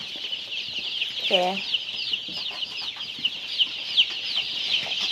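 A thousand chicks in a poultry farm brooder heated by bulbs chirp constantly in a dense, high-pitched chorus, with one nearer, lower cluck-like call standing out early.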